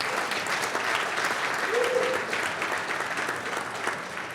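Steady audience applause at a leadership conference, a dense sustained clapping that fills the whole stretch with some crowd murmur mixed in.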